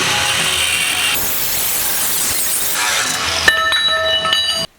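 A power tool cuts through a thick-walled metal mounting loop on a drift truck, a loud steady grinding whine that changes pitch partway through and stops abruptly at the end.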